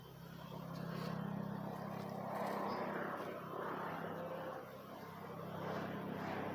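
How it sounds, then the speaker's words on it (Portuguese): A helicopter passes overhead, its steady rotor drone swelling and easing at moderate distance, continuous throughout with no voices. "Passou o helicóptero e eu nem percebi."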